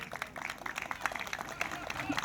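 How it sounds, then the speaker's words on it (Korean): Audience applause at a farmers' rally in Yeoncheon County, honoring an administrative director: scattered, moderately faint clapping from a hall crowd with irregular sharp claps, fairly distant. "먼저 격려와 응원의 박수를 보내주시고요"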